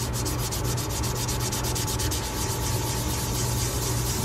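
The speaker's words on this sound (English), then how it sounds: "So here's a 600 grit." 600 grit sandpaper rubs back and forth over a small metal model car part, a close, fast, even scratching rhythm that continues without pause.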